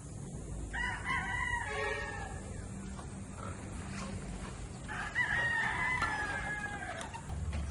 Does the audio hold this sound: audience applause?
no